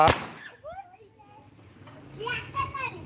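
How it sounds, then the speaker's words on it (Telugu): A firecracker goes off near a Gandhi statue with one sharp, loud bang at the start, followed by children talking and shouting nearby. "అరే గాంధీ తాత దగ్గర బాంబులు పెడుతున్నారు పెట్టద్దు ఇక్కడ దూరం పెట్టు"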